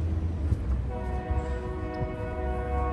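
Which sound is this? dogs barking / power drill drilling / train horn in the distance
train horn in the distance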